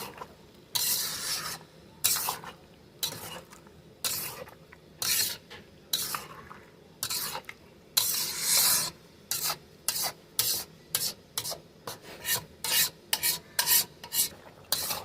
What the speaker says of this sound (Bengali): মাংসটাকে আমাদের ভালো করে নাড়াচাড়া করে ঢাকা দিয়ে দিয়ে কষিয়ে নিতে হবে।